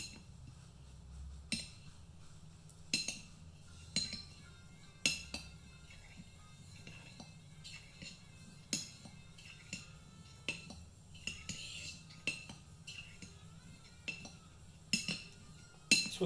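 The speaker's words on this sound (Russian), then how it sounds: "Вот, обратите внимание на звук работы по камню." A knife blade works on a whetstone with faint, repeated scraping strokes and light clicks at an irregular rhythm, close and quiet.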